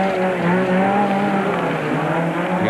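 Race cars, among them a Land Rover and a Chev, roar downhill in a 1997 Super Series race, a loud sustained engine drone with shifting pitch that stays close throughout.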